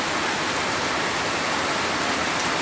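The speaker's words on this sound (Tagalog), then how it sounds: "Ang ulan." Heavy rain pours down in a dense, steady roar of broadband noise, continuous and close for the whole stretch, with no voices over it.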